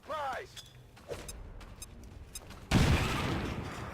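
A grenade goes off in XCOM 2: after a short voice and some scattered clicks, a loud, sudden blast hits near the end and spreads into a broad, rumbling roar that keeps going to the close.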